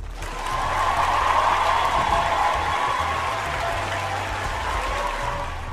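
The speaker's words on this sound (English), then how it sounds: "You all get a round of applause." Crowd applause, likely a sound effect on a comedy podcast, swells in after a moment and continues as an even, dense clatter of clapping over a low hum, with faint cheering mixed in.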